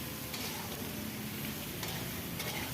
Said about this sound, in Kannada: ಉಳ್ಳಾಗಡ್ಡಿ, ಹಾಕ್ಕೊಂಡು ಬದನೆ ಹಾಕ್ಕೊಂಡು ಚಲೋ ಹೊತ್ನಾಗ ಫ್ರೈ ಮಾಡ್ಕೋರಿ ಬದ್ನಿಕಾಯಿ